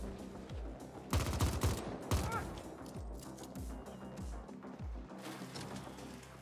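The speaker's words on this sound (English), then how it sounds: "Got like a ricochet gun." Bursts of gunfire from a ricochet gun in The Ascent, with sharp repeated shots and rattling impacts, a heavy cluster around the first couple of seconds, then spaced blasts over a busy game soundscape.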